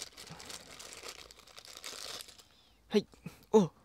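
Paper packaging rustles and crinkles softly, then a few sharper tearing crackles stand out in short bursts, close and quiet.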